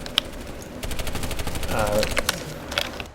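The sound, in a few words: NS SMG gunfire in video game PlanetSide 2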